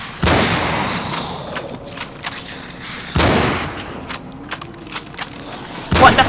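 Three heavy gunshot blasts in the video game Cryostasis, each booming and decaying over a noisy in-game background, spaced a few seconds apart, with fainter clicks and thuds between them.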